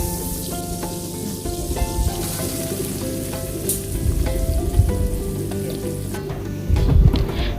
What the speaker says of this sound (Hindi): सबसे पहले हम 2 टेबलस्पून बटर लेंगे और 2 टेबलस्पून ऑयल ऐड करेंगे उसमें और उसके अंदर हम प्याज को ब्रेज कर लेंगे।